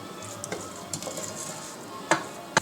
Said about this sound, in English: saute the garlic, saute the onion in the ghee for a few minutes till it gets soft